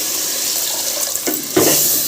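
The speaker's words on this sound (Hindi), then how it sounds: "अब इसमें डालेंगे पानी," Water pours into a pan of sautéed potato and pea curry, a running faucet-like stream that starts thin and grows louder and fuller near the end, close by with no talking.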